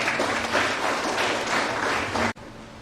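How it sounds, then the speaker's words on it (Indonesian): Crowd applause at the inauguration ceremony of SMKN 3 Komodo vocational school, a dense, steady burst of clapping that stops abruptly near the end, leaving quiet room noise. "mari kita berikan tepuk tangan yang meriah"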